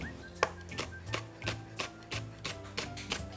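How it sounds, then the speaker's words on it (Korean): A knife thinly slices green onion for a spicy blue crab salad, making a steady run of about ten crisp, evenly spaced cuts, close and moderately loud, with no talking. "요거는 꽃게 무침 완성이 들어갈 대파예요. 얇게 썰어주세요."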